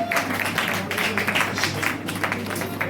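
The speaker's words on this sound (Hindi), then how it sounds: "आपकी तालियां बजती मेरे बच्चों को।" An audience at a university foundation day ceremony in Gwalior applauds in a steady, dense patter of clapping that continues throughout, with a faint electrical hum underneath.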